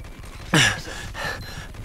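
Gunfire in the Vietcong video game: a sharp shot bursts out about halfway through, followed by a weaker second report, over a low background hum.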